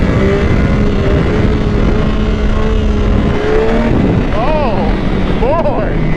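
Yamaha YZF R6 sport motorcycle, the 2005 model, accelerating hard through the gears: a loud continuous engine roar with rising pitch, swamped by heavy wind buffeting, and a voice talking over it.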